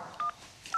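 A telephone number is tapped in on a keypad, sounding as two short, clear electronic tone beeps separated by a brief pause, quiet and close with no talking.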